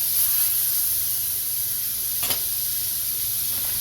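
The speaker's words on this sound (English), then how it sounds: "Sizzle, sizzle, sizzle." Bacon sizzles steadily in a hot pan, a constant close crackling hiss with a brief scrape or pop partway through.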